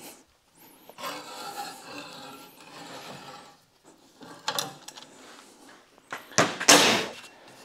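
Hand threading tool cutting threads into steel, with the steel peeling out: irregular scraping and grinding bursts, close and moderately loud, separated by quiet pauses and ending in a louder harsh rasp.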